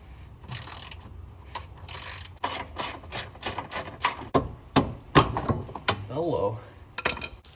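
Ratchet clicking in bursts while unbolting a car's control-arm caster adjuster (a lollipop-style bolt), close and loud, mixed with metallic clanks and workshop handling noise.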